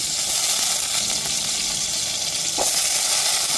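Loud, steady sizzling of onions frying in hot oil, a continuous crackling hiss with a brief stir partway through.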